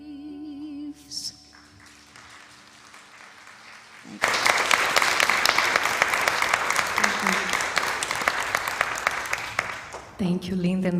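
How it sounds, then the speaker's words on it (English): An audience breaks into sustained clapping after a musical performance at a yoga talk, a dense roll of applause lasting several seconds before fading, with a few voices and musical tones around the edges. "One more round of applause"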